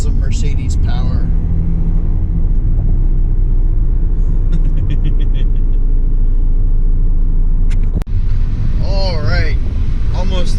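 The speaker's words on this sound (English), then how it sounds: "getting onto the highway. Feel that awesome Mercedes power" A Mercedes car accelerating onto a highway gives a loud, constant low rumble of engine and road noise from inside the cabin, with a voice speaking over it near the end.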